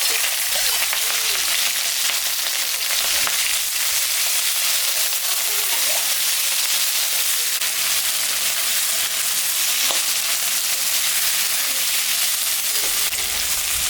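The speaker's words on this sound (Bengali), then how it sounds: "পেঁয়াজটা ভাজা হয়ে গেছে" Onion, garlic, green chilli, cumin, dried red chilli and bay leaf fry in hot oil for a desi chicken curry, giving a steady, close, bright sizzle that crackles continuously throughout without any talk.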